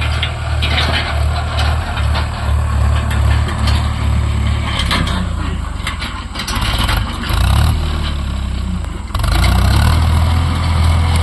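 A Farmtrac 6055 tractor pushes a dozer blade at full load while levelling a field, its engine a loud, steady diesel drone with low rumble that swells briefly near the end.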